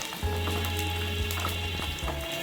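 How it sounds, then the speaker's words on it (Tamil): Curry leaves fry in hot oil for a Tamil omapodi snack, a steady, close crackling sizzle with scattered pops, continuous throughout and with no one talking. "கொஞ்சம் கருவேப்பிலையை இந்த சூடான எண்ணெயில் ஃப்ரை பண்ணி எடுத்துக்கலாம்"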